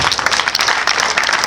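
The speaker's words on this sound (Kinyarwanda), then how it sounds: "Reka duhereze Imana amashyi kubw'ijambo ryayo." A church congregation claps for God, a brief burst of dense, overlapping handclaps from many people in a room.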